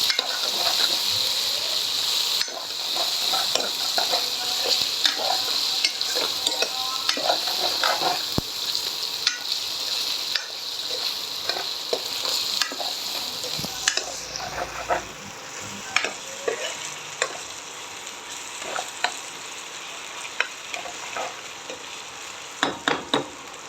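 Mutton frying in a pan for a spicy Maharashtrian dish, stirred steadily with a spoon: a continuous bright sizzle with frequent scraping and clinking strokes, close and fairly loud, with no voices.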